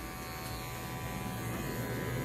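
Electric hair clipper with a half comb guard cutting hair in a barbershop tape fade, a faint, steady buzzing hum close by with no speech.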